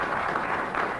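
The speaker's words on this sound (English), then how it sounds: "the volume of your applause will determine this" Studio audience on a British radio comedy panel show applauding and cheering, a steady dense roar of clapping held at even loudness for about a second.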